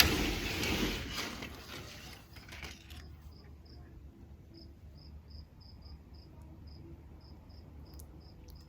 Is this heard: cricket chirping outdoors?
yes